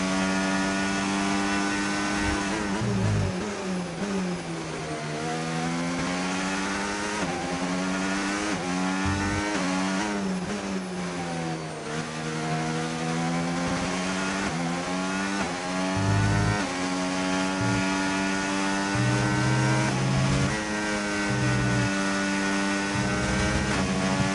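Formula 1 race car engine in the F1 25 video game, a loud, high-pitched wail that rises repeatedly through the gears, with downshifts and pitch drops on braking, continuous over a long stretch.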